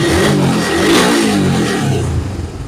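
The engine of a Suzuki Raider motorcycle revs hard up close, a loud, rough, buzzing roar that holds, then eases off slightly with some sputtering at the end. No one speaks.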